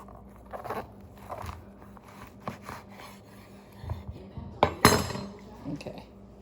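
A kitchen knife slices through a cucuzza squash, giving crunchy cuts and a few clinks against the board or bowl. The sounds are close, irregular, and moderately loud, with the sharpest crunch near the end.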